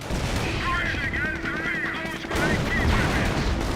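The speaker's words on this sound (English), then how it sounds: "Did the machine gun destroy the AT gun?" Dense battle din from Company of Heroes, a World War II strategy game, with sustained machine gun fire and scattered gunshots blended into a steady loud wash throughout.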